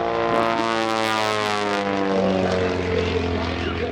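A Pitts aerobatic propeller biplane roars loudly and steadily at the 2019 Culpeper Air Fest, its engine pitch sweeping and shifting as it rolls and climbs into the vertical, close and unbroken.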